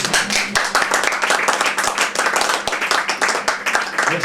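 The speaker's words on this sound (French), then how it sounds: "Khadija, vous pouvez l'applaudir" A French audience claps for Khadija with loud, close, crisp applause in a fairly even rhythm, sustained from start to finish with a few sharper individual claps standing out.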